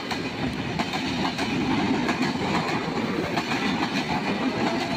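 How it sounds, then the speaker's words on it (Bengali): The Rupsa Express passenger train runs through a station without stopping, a loud, steady rumble and rhythmic clatter of wheels over rail joints heard close up throughout. "রূপসা এক্সপ্রেস ট্রেনটি স্টেশনে ঢুকে গেছে। এই স্টপেজ দেবে না, বেরিয়ে যাবে।"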